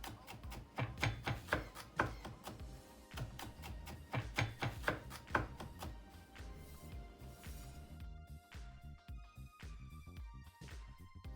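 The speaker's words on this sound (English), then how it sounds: "we're gonna get some fresh garlic. We're gonna mince it up really good. Chop, chop, chop, chop it up" A knife mincing fresh garlic taps rapidly on a cutting board, quick rhythmic chops close and fairly faint, the bursts thinning out toward the end.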